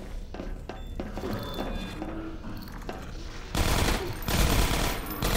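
Automatic gunfire in Half-Life 2: Episode One, starting with scattered thumping shots and building into a loud, dense burst of rapid fire toward the end.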